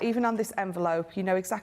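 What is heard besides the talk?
None of the usual background noises is heard.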